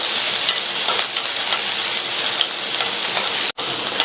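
Sliced onion and two slit green chillies sauté in a pan with a loud, continuous crackling sizzle close by. A brief dropout breaks the sound near the end.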